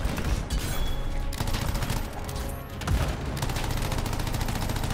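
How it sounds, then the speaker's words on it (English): Legendary turrets in the video game Anthem fire in sustained, dense bursts of rapid gunfire, loud and close, with brief dips in intensity and almost no talk over it. "got to go take these turrets out because there's a ton of them already hitting us"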